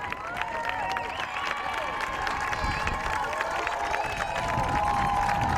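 Crowd applauding and cheering at a varsity boys lacrosse playoff game, a steady dense roar of clapping and voices with faint background chatter throughout.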